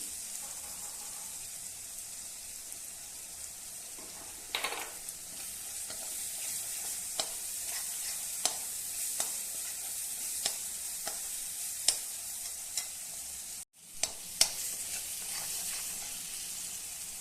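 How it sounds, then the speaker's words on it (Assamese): Spices sizzling and frying in a hot pan for jackfruit curry, a steady crackling hiss with scattered clicks of a spoon stirring, close and continuous with a brief break near the end. "এইখিনি ভজা হৈছে প্ৰায়, গতিকে মই মছলাখিনি দি দিম।"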